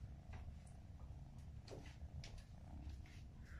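A house cat purrs close by as a faint, steady low rumble with slight pulsing, quiet and continuous with no talking.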